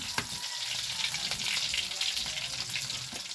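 Chopped onion and garlic sizzle steadily in a hot pan with oil, a continuous close frying hiss with small crackles and no talk over it.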